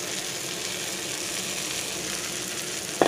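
Okra sizzles steadily in a hot pan with tomatoes, onions, green chillies, salt, red chilli and turmeric, a dense continuous frying hiss with a brief stir or clink near the end.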